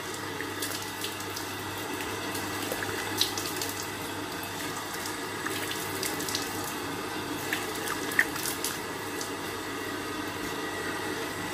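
Tap water runs steadily into a sink during face washing, a soft continuous hiss with faint splashes, fairly quiet and close throughout.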